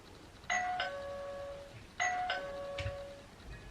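A phone message alert set to a doorbell tone rings twice, each a clear two-note ding-dong chime, close and alone against a quiet background.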